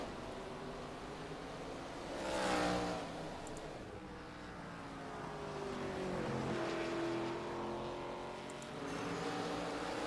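ARCA Series stock cars race on the track at Five Flags Speedway as a pack of engines roars past, swelling and fading with Doppler sweeps. The cars are moderately distant, and nobody talks.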